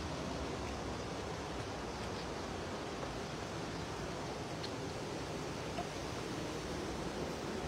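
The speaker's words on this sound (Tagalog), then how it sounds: "Medyo malakas yung agos." A strong river current flows in a steady, broadband rushing wash, constant and moderately distant, with no voices over it.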